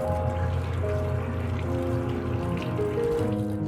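A fresh bunch of coriander and scallions is rinsed under running water, giving a continuous close pouring and trickling wash with no talking.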